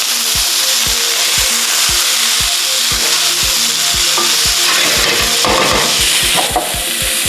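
Cabbage and regular potato stir-frying in a pan for vegetable lumpia filling, a steady loud sizzle with regular scraping stirs of a utensil against the pan, no talking.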